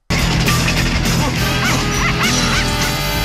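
A dog barks and yips amid the dense, continuous soundtrack of a scene from the 1994 film Ace Ventura: Pet Detective, blended with music and other effects throughout.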